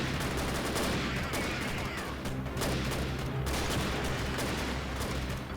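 RPG and surrounding gunfire in Freeman: Guerrilla Warfare, a dense battle din of rapid repeated shots and bursts with a couple of sharper blasts, loud and unbroken throughout.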